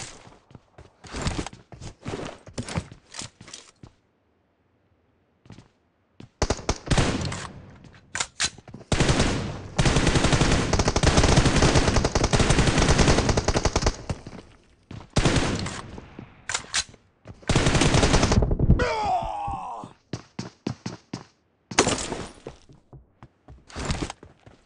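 Gunfire in a team deathmatch video game: bursts of rapid automatic fire with short single shots, loud and close, broken by brief pauses and quieter stretches.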